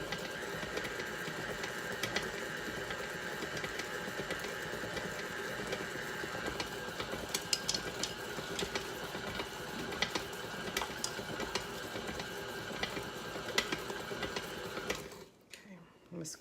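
Electric mixer beating carrot cake batter at a raised speed, a steady close whirring hum with faint rhythmic ticking under a person talking, stopping abruptly near the end.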